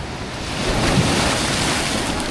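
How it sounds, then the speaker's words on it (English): Ocean waves crashing at a surf beach with surfers, a loud continuous wash of surf and rushing water with wind buffeting the microphone, no voices. "a bit of the crashing of the waves"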